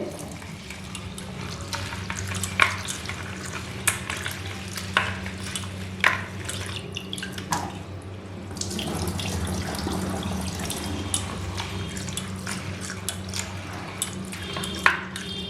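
Rice being washed by hand in water at home, running water and swishing grains, with steady splashing and stirring that carries on over several seconds, close and at moderate volume, with occasional sharper splashes and no talking.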